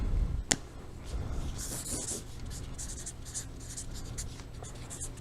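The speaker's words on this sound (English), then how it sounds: "I am going to write on my envelope" A pen scratches across a paper envelope in a steady close stream of soft strokes, opening with a sharp tap of the pen being set down.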